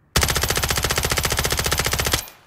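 Beretta PMX submachine gun fired in Call of Duty Modern Warfare III, one sustained loud full-auto burst of about two seconds with rapid, even shots, then a short echoing tail.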